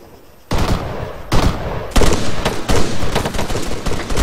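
Loud bursts of rapid gunfire in a video game, several volleys of automatic shots cracking close by with short gaps between them.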